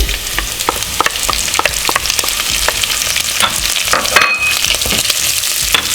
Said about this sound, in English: So now I'm adding in our onion,